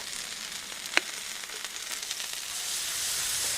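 Ground beef frying in oil on a Blackstone griddle gives a steady, fairly faint sizzle with one sharp crackle pop near the start, the hiss building slightly toward the end, no voices.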